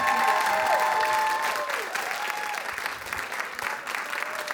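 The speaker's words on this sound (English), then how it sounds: "let's give our amazing students one more awesome round of applause" Audience applause for students at a teen speaking event, a dense steady clapping crowd that holds loud throughout and eases slightly toward the end, with faint whistle-like tones over it.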